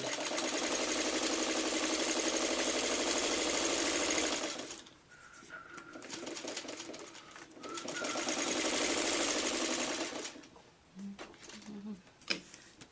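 A sewing machine runs stay stitching along the edge of fabric for a Celtic cross quilt block, a steady close whir in two long bursts separated by a pause, with a few small clicks and handling noises toward the end.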